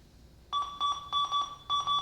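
A Gofind 66 metal detector sounds its iron-target tone in all-metal mode, a bright electronic beeping that repeats in quick, slightly uneven pulses, close and clear with no talking.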